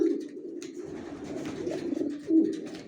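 Racer pigeons coo continuously at close range, low throaty rolling calls overlapping one another, with one louder burst near the end.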